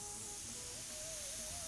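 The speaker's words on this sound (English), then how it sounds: "So that first burst of steam just went off." A pressure cooker on a stove, cooking tadka dal, releasing a steady broadband burst of steam, a continuous loud hiss with a faint whistle-like tone running underneath.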